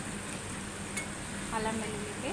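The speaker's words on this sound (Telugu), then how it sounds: "అల్లం వెల్లుల్లి పేస్ట్, వేగుతుంది కొంచెం" Ginger garlic paste frying in a pan for chicken capsicum fry, a steady low sizzle with faint stirring scrapes and an occasional light clink, fairly quiet and close, with no speech over it.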